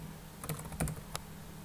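A computer keyboard is tapped as a WordPress plugin name is typed into a search field, giving a handful of sparse, light key clicks against a quiet background.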